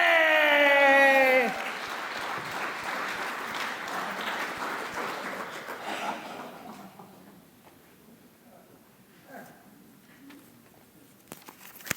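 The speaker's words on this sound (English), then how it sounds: "Ladies and gentlemen, give it up for Eric Oñate!" An audience applauds a stand-up comedian as he is introduced, with a loud burst of clapping that fades over several seconds into scattered claps and quiet room noise, briefly cut in at the start by an amplified voice.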